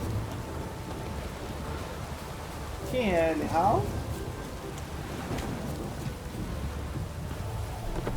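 Rain pours steadily with low rumbling like distant thunder in The Witcher 3 video game, a constant dense wash under a brief spoken phrase in the middle.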